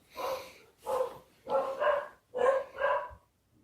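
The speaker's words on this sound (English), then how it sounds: "Convenient dog barking." A dog barks five times in a steady run, each bark sounding close and clear with short pauses between, and no speech over it.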